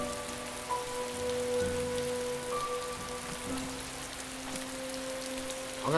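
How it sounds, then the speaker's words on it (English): Heavy rain pours down steadily near a creek, a dense hiss of drops on surfaces filling the scene, with faint tonal hums in the background and no talk. "I think it's raining really hard."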